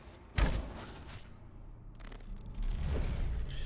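A sharp, booming blast of an explosive arrow hits near the start in Conan Exiles, followed by rumbling crackle and a second softer thump amid background noise.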